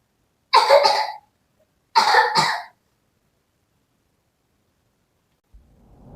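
A child coughs in two short, harsh bursts separated by a pause, close and loud in a quiet room, followed by a faint low rumble near the end.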